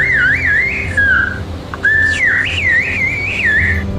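A single whistler carries a whistled language in a continuous warbling line of sliding, wavering pitches, loud and close with brief pauses between phrases.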